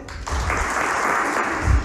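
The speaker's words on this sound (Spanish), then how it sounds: "no están aplaudiendo la palabra, están diciéndome que se cortó el micrófono" A church congregation breaks into a short burst of clapping that lasts about a second, loud and close, before fading out.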